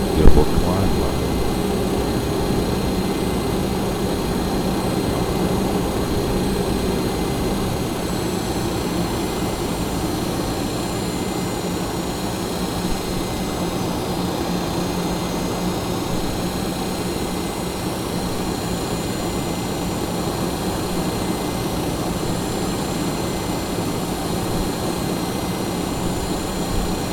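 Simulated DC-9 jet engines roar steadily during takeoff in Flight Simulator 2004, a continuous loud hum with a high whine on top that holds throughout, while someone talks over it.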